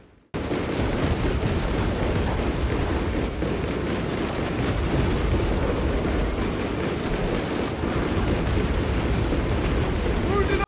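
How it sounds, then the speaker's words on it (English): Constant rumbling battlefield din of explosions and gunfire in the Warhammer 40,000 Space Marine video game, a dense, steady wash of blasts that sounds muffled and distant rather than punchy. "Explosions feel weak and distant."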